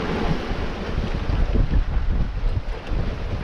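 Wind gusts across a sailboat at sea during a single-handed Azores-to-Ireland passage, a steady loud rush with low buffeting on the microphone and wave wash underneath, no voices.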